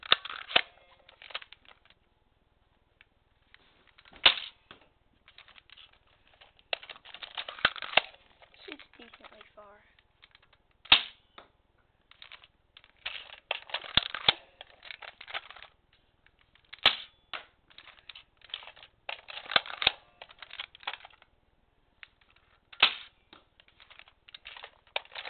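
A Nerf N-Strike Maverick REV-6 foam-dart blaster fires a few sharp, close snaps spread across the stretch, with clattering handling and mechanical clicks between shots.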